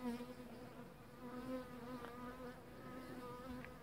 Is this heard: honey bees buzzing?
yes